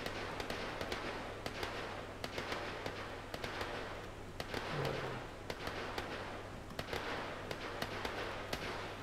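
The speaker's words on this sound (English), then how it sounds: "Where are those guns coming from?" Gunfire in Fallout 76 sounds as a string of sharp, distant cracks and pops spread unevenly over several seconds, faint and scattered like far-off shooting, with no speech heard.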